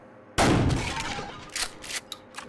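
Video game gunfire: one loud, close shot with a ringing decay, followed by several fainter, scattered reports.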